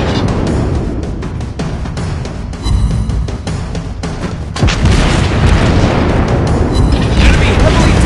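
Naval gunfire in World of Warships, with the heavy boom of shell hits and explosions rolling out loud and continuous, swelling into a deeper blast partway through under a dense battle din.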